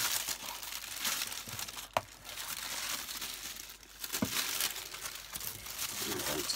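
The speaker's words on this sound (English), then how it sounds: "I'm going to use this tissue paper." Tissue paper crinkles and rustles up close while a gift is being wrapped, in soft irregular bursts with a few sharper crackles.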